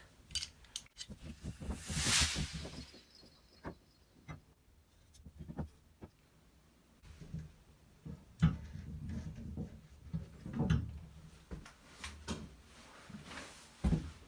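Teflon tape stretched and wound four to five turns around shower pipe threads, giving soft crinkling, tearing and rustling bursts with faint clicks, close up and quiet, no one speaking.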